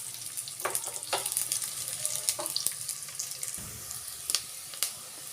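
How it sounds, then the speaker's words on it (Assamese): Onions fry in a pan for a radish stir-fry, giving a constant sizzling hiss dotted with small pops and clicks, close and steady, with no talking. "এতিয়া মই 1 মিনিটমান সময় অকণমান ভাজি ল'ম, যাতে পিঁয়াজখিনি অকণমান ৰঙচুৱা বৰণ ধৰে।"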